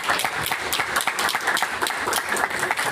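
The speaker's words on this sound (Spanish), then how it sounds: "les voy a pedir un aplauso para ellos" An audience applauds the organizers of an engineering conference day, a dense, steady wash of many hands clapping throughout with no pauses.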